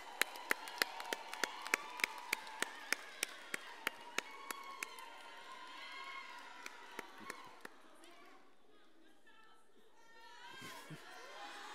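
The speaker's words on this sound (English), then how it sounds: "A round of applause for them." Scattered claps grow into steady crowd applause in a hall at a university faculty graduation ceremony, fading out after several seconds as murmuring continues.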